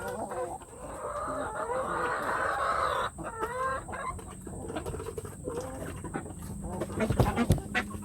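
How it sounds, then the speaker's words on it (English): Broody hens cluck in a henhouse with a dense run of near, throaty calls and sharper squawks, joined later by a rooster's crow and scattered rustling, with no speech over them. "I think I got some broody hens."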